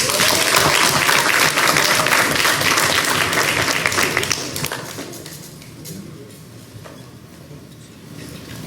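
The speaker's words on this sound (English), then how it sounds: "let's give a hand clap and let's give a warm welcome for Eric Guo" A business conference audience gives warm applause to welcome a speaker, loud dense clapping that holds for about four seconds and then thins and fades to scattered claps and room noise.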